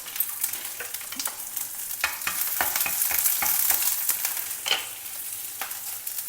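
Green chillies and curry leaves frying in oil in a pan, a steady crackling sizzle broken by sharp pops and spatters, heard close with no talking.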